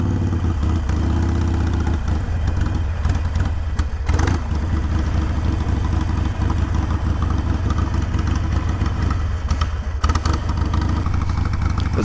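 A 2020 Harley-Davidson Iron 883 motorcycle engine with a sensor fault idling roughly, a steady loud close-up rumble with slight unevenness and no talk.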